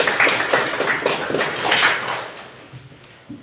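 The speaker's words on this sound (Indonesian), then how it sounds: "Boleh dikasih tepuk tangan." A classroom of students clapping together, a short burst of close, busy claps that fades out after a couple of seconds.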